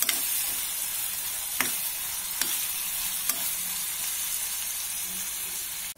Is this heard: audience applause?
no